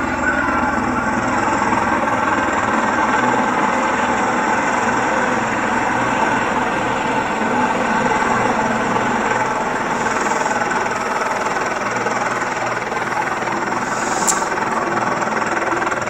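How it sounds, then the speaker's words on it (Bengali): A helicopter landing on the Shahi Eidgah field at Shayestaganj Puran Bazar, its steady, loud rotor and engine roar filling the whole stretch with dense, unbroken noise. "প্রিয় দর্শক, আমরা দেখতে পাচ্ছি হেলিকপ্টারটি মাঠের উপর থেকে মাঠের উপর ল্যান্ড করছে।"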